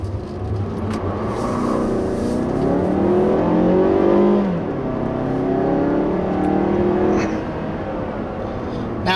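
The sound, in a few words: 2016 Mazda3 GT hatchback engine accelerating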